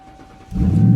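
An Acura ZDX engine cranks and catches halfway through, jumping into a loud, low rumbling idle after a quieter stretch.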